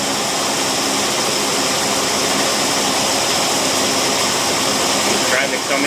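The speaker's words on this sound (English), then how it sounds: "We're going to idle it up. As you can see, it's running real rich." An Erickson ProForm 850 engine idling up and running rich after start-up, a loud, steady roar that holds without a break throughout.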